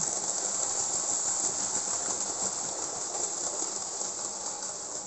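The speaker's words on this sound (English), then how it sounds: "Is making easy work of this quite heavy mixed goods train" An SNCF 131TB steam locomotive hauls a heavy mixed goods train with a steady, continuous hiss and rumble that holds at an even level throughout, with no voices.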